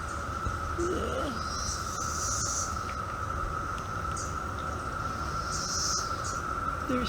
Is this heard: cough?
no